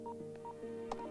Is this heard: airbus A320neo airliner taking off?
no